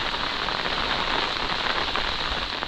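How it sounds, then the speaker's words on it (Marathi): A steady downpour at the onset of heavy monsoon rain over village farmland in Konkan, a constant loud wash of close raindrops hitting surfaces with no pauses and no voices. "जोरदार पावसाला सुरुवात झाली आहे."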